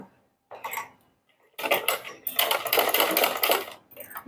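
Sewing machine stitching a marked circle through blouse fabric and its lining, a short burst of rapid clattering, a pause, then a longer steady run of close, fast stitching.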